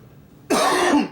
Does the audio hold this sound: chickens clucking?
no